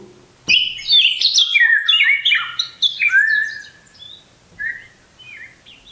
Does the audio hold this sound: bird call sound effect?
yes